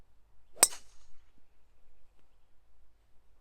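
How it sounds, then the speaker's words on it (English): A golf driver strikes a ball off the tee, a sharp isolated crack that rings briefly and fades into quiet outdoor air, a snap-hooked drive with no voices. "we snap hook this drive off the tee, goes straight in the trees"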